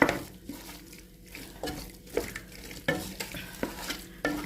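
Fried squid being stirred in a pan with irregular scrapes and clatters over a steady sizzle, close and moderately loud, without any talking.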